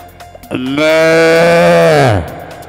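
A voice imitating a cow and calf calling, one sustained, loud, bellowing moo-like cry of about a second and a half that drops in pitch at the end.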